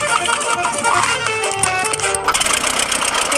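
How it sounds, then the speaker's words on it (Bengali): The engine of a very cheap small plane runs with a rough, buzzing drone, loud and close, wavering slightly in pitch and steady for the whole stretch with no speech. "এর আওয়াজটা লোহার বোমার ইঞ্জিনের মতো কেন?"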